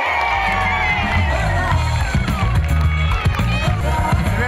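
Crowd at a pilgrimage festival applauding and cheering, loud and close, with rhythmic clapping and shouts layered over a pulsing music beat and a voice calling out over it.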